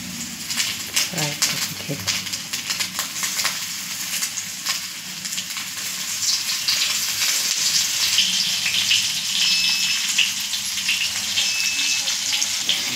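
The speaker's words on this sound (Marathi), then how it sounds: "आपण ही मच्छी सोडतोय आता तव्यात" Kupa fish sizzles steadily in hot oil on a flat tava, a continuous crackling hiss that grows slightly louder, with brief faint clatter early on.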